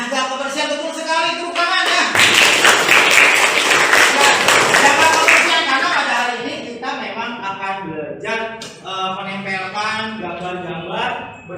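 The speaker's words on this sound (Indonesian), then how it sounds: "Tepuk tangan ya." Children in a classroom clap their hands together in a short burst of rhythmic group clapping, loud and close, followed by an adult voice talking.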